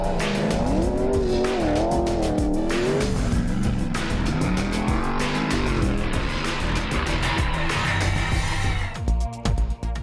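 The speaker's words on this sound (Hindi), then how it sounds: "सिल्क वे रैली में ड्राइवर्स की महारत का इम्तिहान, रेत में गाड़ी दौड़ाने और इसका तवाज़ुन कायम रखने का चैलेंज" A rally car racing through sand at the Silk Way Rally: a loud, continuous engine whose pitch keeps climbing and falling, with tire squeal and skidding throughout and no talk.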